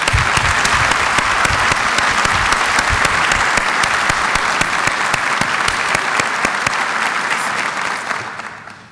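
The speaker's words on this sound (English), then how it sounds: "This program certainly deserves a hearty round of applause." A university audience at a State of the University address gives a loud, sustained round of applause for a PsyD program that fills the room, holding strong for most of nine seconds before tapering off at the end.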